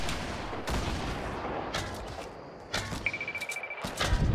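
Sniper gunfire in the video game Fortnite at a depot, with a few sharp, distant shots spread over several seconds and a rapid rattling burst near the end.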